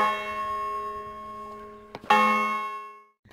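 A bell rings with a long sustained tone, then a brief knock and a second strike that rings out and fades to silence.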